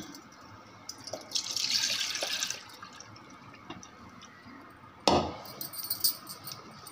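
Water splashes and pours in two short bursts over homemade butter churned from cream for ghee, as it is rinsed in a vessel, with quiet handling sounds between the pours.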